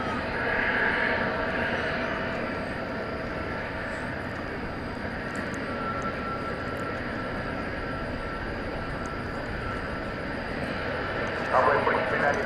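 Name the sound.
Frontier Airlines Airbus A320neo jet at DFW Airport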